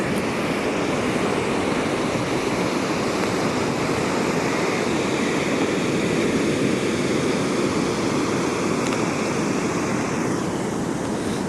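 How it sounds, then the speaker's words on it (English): Ocean waves washing in continuously on Calangute Beach in Goa, India, a steady broadband surf roar with no talk. "enjoy the sound of the waves"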